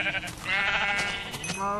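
A Minecraft sheep bleats in a quavering, wavering cry, faint and fairly close, with a couple of short bursts following.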